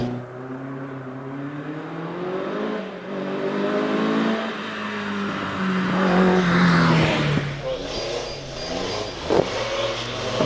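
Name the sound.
race car accelerating at Prescott hillclimb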